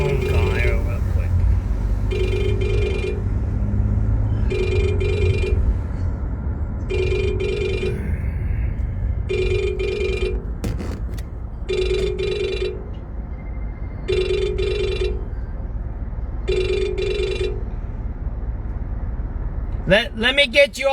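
A telephone rings in a steady repeating pattern, about eight bright rings spaced roughly two seconds apart, over a constant low rumbling background.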